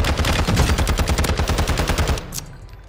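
A Lachmann 556 rifle in Warzone 2 fires a fast, steady automatic burst of closely spaced loud shots for about two seconds, then stops abruptly and leaves a brief quieter tail.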